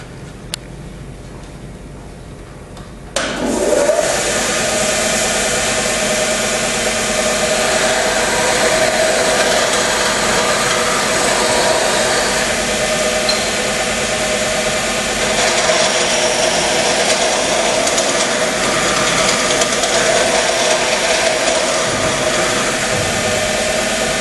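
Heavy sanding machine in a training lab demonstration starting up after a short quiet moment, then running as a loud, steady, continuous whirring drone that holds at constant level to the end.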